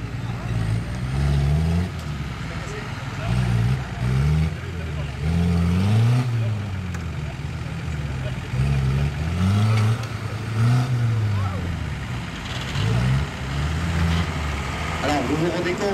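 Off-road vehicle engine labouring over rough ground, repeated rev surges rising and falling every couple of seconds, moderately close, with someone talking throughout.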